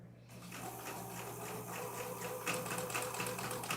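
A sewing machine with a broken bobbin runs with a rapid, regular mechanical stitching rhythm, close and moderately loud, turning harsher and clattering toward the end.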